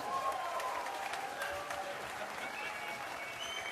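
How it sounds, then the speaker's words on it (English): Audience applause for a world-renowned painter on a show set, a steady wash of clapping with some overlapping voices and tonal chatter mixed in, moderately loud and continuous throughout. "Come on, everybody's applauding you."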